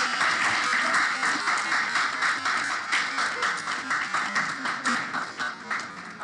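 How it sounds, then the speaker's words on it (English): Steady applause at a university student government meeting, many hands clapping continuously at moderate loudness for several seconds without talk. "thank you for the applause"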